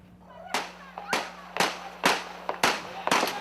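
Gunfire in a shootout on the outskirts of Medellín, Colombia: six sharp, loud cracks at roughly half-second intervals, each with a short echoing tail, and no talking.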